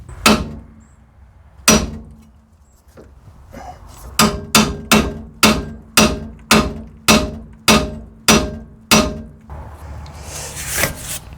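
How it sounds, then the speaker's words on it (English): Steel hammer blows on a seized track rod end of a Morris Minor: two separate heavy strikes, then a steady run of about a dozen loud, evenly spaced metallic whacks, close up with no talking. "So after much hammering got me absolutely nowhere"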